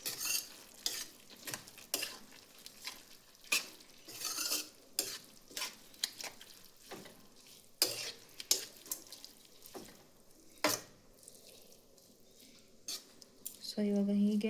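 A spoon stirs sprouted green gram curry in a pan, giving repeated close scraping and clinking strokes in an irregular rhythm over a soft cooking sizzle, with a brief louder hiss near the end.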